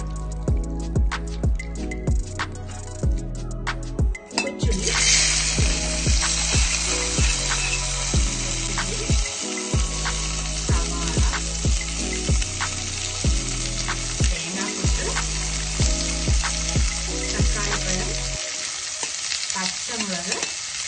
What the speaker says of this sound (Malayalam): ചൂടായ ചട്ടിയിലേക്ക് എണ്ണ ഒഴിച്ചു കൊടുക്കും.